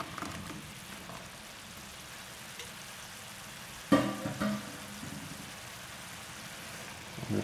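Fried tofu being stirred into simmering General Tso sauce in a pan gives a soft, steady bubbling sizzle, with a brief clatter of the spoon and tofu dropping in midway, then gentle stirring scrapes.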